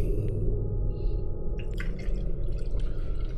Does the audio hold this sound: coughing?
no